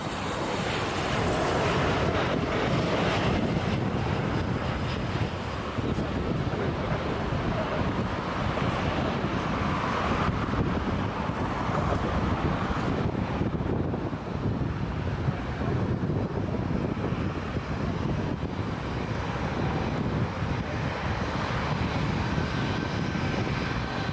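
An airliner lands at Toronto Pearson airport, heard as a sustained, loud broadband roar of jet engines mixed with heavy wind noise, steady for the whole stretch.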